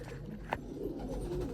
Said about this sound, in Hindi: इसमें वो वाला कबूतर भी इसी में है